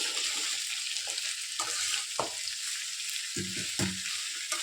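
Bitter gourd frying over a high flame in a pan, a continuous close sizzle with scattered stirring knocks and a few louder clacks of the utensil near the end, no voices.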